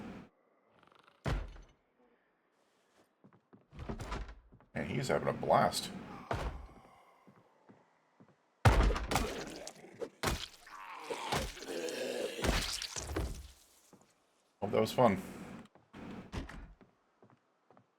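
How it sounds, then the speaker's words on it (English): In Project Zomboid, a zombie pounds on a door, making loud, irregular heavy thuds and bangs in bursts. Someone talks in between and over them. "I hear you pounding in there."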